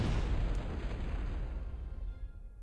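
A Scuttle unit detonates in the strategy game Zero-K, a heavy rumbling blast that rolls on and slowly fades over roughly two seconds, loud and close with no talking.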